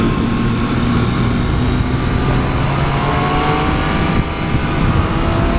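A 2014 Triumph Street Triple R motorcycle is ridden on the road, its engine droning steadily and loudly with wind rush throughout, and no one speaking.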